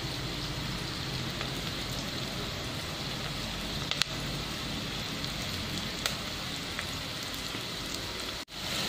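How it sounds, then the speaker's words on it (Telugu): Vegetables frying in a pan for sambar give a steady, dense sizzle that runs unbroken throughout, fairly close and even in level, with a few faint clicks and no talking. "ఇవి మంచిగా ఫ్రై కావాలి"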